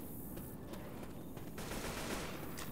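Dense, continuous gunfire from a Left 4 Dead zombie shooter session, rapid shots blurring into a steady, loud barrage across the whole stretch with no voices.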